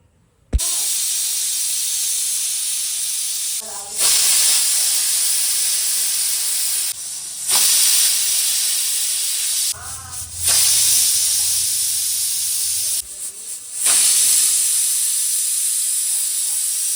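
Several loud hissing bursts of steam from a pressure cooker whistle, each lasting a few seconds and separated by brief pauses, six to seven whistles while making cooker popti.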